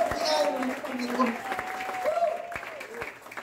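Congregation clapping in a church during a pastor's sermon, a steady round of applause with a loud voice speaking over it throughout.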